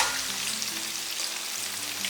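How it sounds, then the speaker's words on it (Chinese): Pork ribs double-fry in very hot oil, giving a dense, continuous sizzle and crackle that stays even and close throughout, with no talking. "再把油温升高，下锅复炸30秒"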